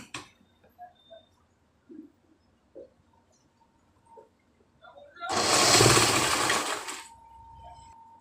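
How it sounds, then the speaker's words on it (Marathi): A domestic sewing machine double-stitching two fabric piping strips together for a blouse neckline runs in one loud, steady burst of about two seconds, after a few faint taps and handling noises in a quiet room. "दोघं पट्टी एकत्र घ्यायची आणि डबल शिलाई करून घ्यायची जॉईंट करताना।"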